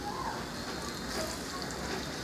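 Continuous crackling sizzle of sun-dried salted fish frying crisp in oil, close and steady, with a soft spattering texture throughout.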